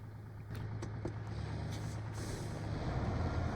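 MTVR 4x4 military truck driving in SnowRunner, a steady low engine drone with brief hissing air-brake bursts near the start, holding loud and close for the whole stretch.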